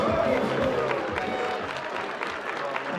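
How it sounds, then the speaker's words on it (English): A crowd at a boxing event applauds and cheers steadily throughout, a dense sustained wash of clapping heard from within the audience. "Gentlemen, a round of applause"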